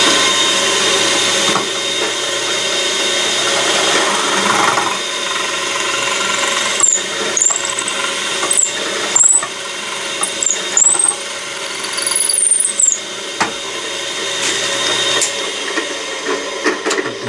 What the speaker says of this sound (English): I'm at the drill press. Note how I've held the work, and I am center drilling